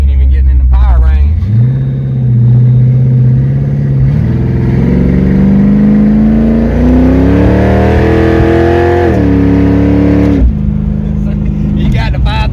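A 363 stroker Ford Mustang engine revs hard from inside the car, rising and falling through the gears with a loud, rough roar as people talk over it.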